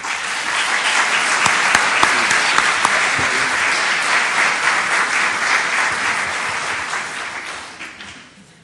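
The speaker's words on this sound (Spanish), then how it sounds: "al cual les pido un aplauso" A large audience at a UNAM lecture hall claps loudly and steadily to welcome the economist Jesús Silva Herzog, a dense continuous wash of applause that tapers off near the end.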